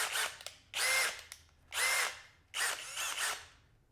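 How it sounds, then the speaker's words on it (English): A Skil 12V compact cordless drill whirs in three separate bursts while drilling holes, each about a second long, with short quiet pauses between them, close and loud. "Let's drill a few more holes."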